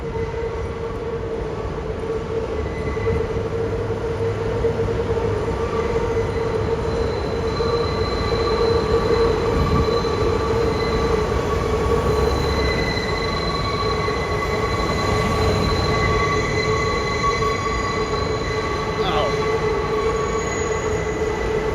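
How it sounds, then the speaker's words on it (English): A New York City train rolls steadily along the rails with a constant rumble, faint high wheel squeals drifting in and out, no voices. "I'm taking the train back to the hostel."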